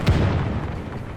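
Battle sounds from a strategy video game: a single heavy boom right at the start, followed by a short rumbling decay, loud and close.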